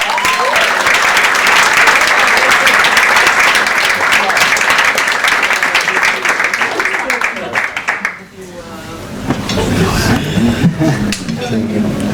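Wedding guests clap after the speeches, a loud, dense round of applause with a few cheers that fades out partway through, followed by a voice talking and faint room sounds.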